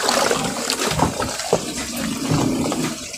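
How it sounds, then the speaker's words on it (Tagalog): Water pours and overflows from a laundry tub during a wash day, a loud, close, continuous splashing rush with gurgling bursts throughout. "umapaw na po yung tubig natin guys"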